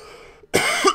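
A single harsh cough bursts out right after a brief silence, loud and close, with a short second burst at the very end, over faint background game music in a Phoenix Wright: Ace Attorney courtroom game.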